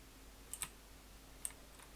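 A few quiet computer mouse clicks while working in the Unity editor, two close together and one more a moment later, faint over a soft room hum.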